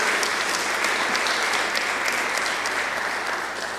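Dense, sustained applause from a conference audience fills the room, steady and loud throughout and easing slightly toward the end, with no voices rising above the clapping.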